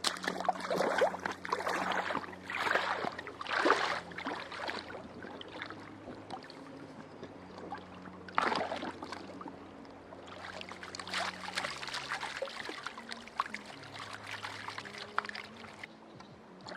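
Gold concentrate from a sluice is panned in water at Nundle: swishing, pouring splashes and trickles come in irregular surges, with quieter gaps between swirls, all fairly faint and close.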